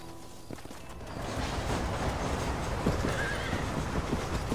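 A horse in the Red Dead Redemption video game neighs briefly, then its hooves clop in a steady galloping rhythm, loud and close, over rolling outdoor game ambience with no talk.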